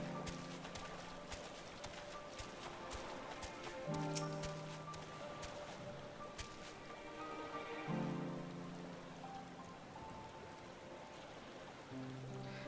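Rain falls in a Final Fantasy XIV game scene by a pier, a steady, soft patter on surfaces that stays even and quiet throughout, with low ambient tones swelling underneath at a few points and no talking.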